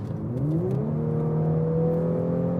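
A 2018 Audi S4 3.0T engine revs up, its pitch rising steadily as it accelerates, loud and close with a smooth, sporty growl.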